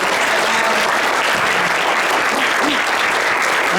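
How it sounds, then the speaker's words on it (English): A crowd at a college interfaith town hall gives loud, sustained applause, a thick wall of clapping with faint voices mixed in. "We have a round of applause for Andrew."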